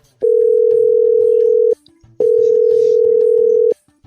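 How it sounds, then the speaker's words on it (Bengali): A phone call's ringback tone sounds as two long, loud, steady beeps with a short gap between them, over faint background noise. "ফোন লাগাই নাকি"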